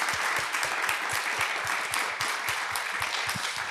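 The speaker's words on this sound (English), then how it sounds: "Can I have a round of applause?" An audience at an academic lecture on marriage, family and work applauds, a dense steady wash of clapping lasting a few seconds with no voices over it.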